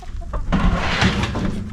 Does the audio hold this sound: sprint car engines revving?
no